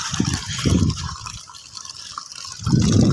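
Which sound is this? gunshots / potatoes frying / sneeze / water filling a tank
water filling a tank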